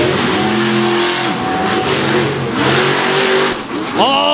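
Monster trucks with Patrick chassis and 540 engines revving hard in a championship race, loud roaring engines rising and falling repeatedly, with a commentator talking over them.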